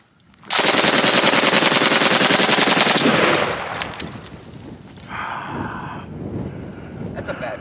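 A captured machine gun from Okinawa fires one loud sustained burst of rapid shots for about three seconds outdoors, followed by wind noise and faint voices.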